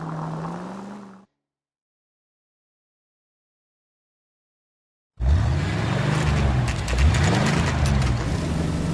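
Engine of a red Ford car driven in the L.A. Noire video game roars in loudly after a silent gap, holding a steady drone with rising and falling pitch sweeps as it accelerates and shifts.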